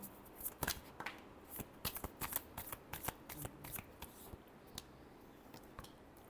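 Tarot cards are shuffled close by in a quiet room, a run of soft, quick riffling flicks and taps coming in uneven bursts.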